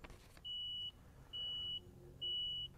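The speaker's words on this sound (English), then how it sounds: "In a moment, it will probably start beeping at me since I'm not sitting in the seat." Three evenly spaced electronic seat warning beeps from a Ryobi 80-volt zero-turn mower, each about half a second long, sound clearly over a quiet engine rumble.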